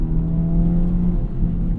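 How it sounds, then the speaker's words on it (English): A 2024 Acura Integra Type S with a turbocharged engine over 300 horsepower gives a steady, muted engine drone under acceleration, low and continuous with little rasp, close by and alone. "It is it's such a quiet engine."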